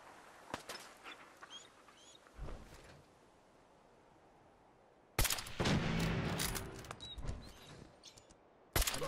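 Gunfire in Fallout 4, scattered single shots early on, then a loud sustained burst of rapid automatic fire lasting a few seconds, with another sharp shot at the end.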